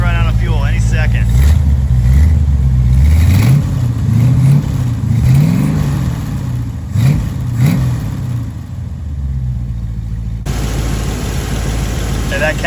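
A Mopar 440 six-barrel V8 runs during break-in while nearly out of fuel. The loud, close engine revs up and down repeatedly with a rough, lumpy idle between, then settles, while people talk over it.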